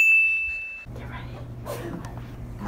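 A doorbell gives a single bright electronic ding that rings clearly for under a second and then cuts off during ding dong ditching, followed by low background rumble and faint shuffling.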